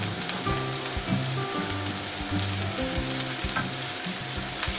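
Steak and onions frying together in a frying pan, a dense, even sizzle and crackle that holds steady throughout, up close with no voices.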